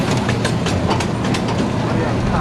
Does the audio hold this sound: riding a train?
yes